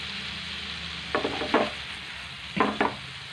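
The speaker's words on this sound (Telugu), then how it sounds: "అల్లం వెల్లుల్లిపై పచ్చి వాసన పోయే వరకు ఏగితే చాలు." Ginger and garlic frying in a pan for an egg masala dosa, with a steady low sizzle under two pairs of short stirring scrapes.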